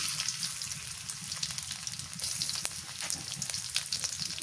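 Garlic sizzles in hot mustard oil in a pan, with a steady close crackle and spitting throughout and no voice over it.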